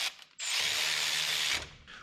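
Ratchet wrench spinning a new nut onto a stud on a 1973 big block Chevrolet C10, a steady close, loud run of rapid clicks lasting about a second before stopping.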